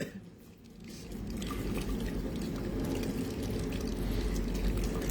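Water pours and splashes steadily in a small decorative fountain, a continuous close-up rush of liquid that holds an even level after a brief quieter start.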